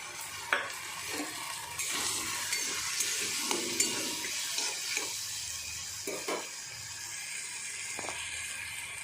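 Drumstick leaves with turmeric fry in hot oil in a pan, giving a steady sizzle broken by repeated scrapes and clacks of a spoon stirring, close and fairly quiet, with no talk.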